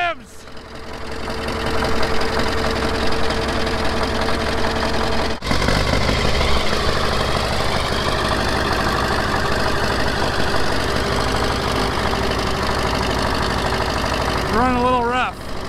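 An old International TD-14 bulldozer engine idles roughly up close, a loud, uneven knocking chug with one brief stutter partway through, and a voice is heard briefly near the end.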